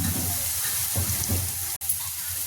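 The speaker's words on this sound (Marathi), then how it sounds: "हा मसाला छान खरपूस भाजून घ्यायचा तेल सुटेपर्यंत" Green masala for a Maharashtrian bhendi bhaji roasts in oil in a pan, giving a close, continuous sizzle with soft stirring scrapes and a brief cut near the end.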